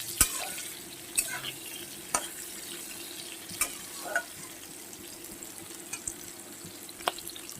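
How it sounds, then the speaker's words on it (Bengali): Bitter gourd and drumstick pods fried together in a pan give a soft, steady sizzle with occasional sharp scrapes and clinks of stirring, close and fairly quiet. "এবার একসঙ্গে সবকটা উপকরণ ভেজে নেব"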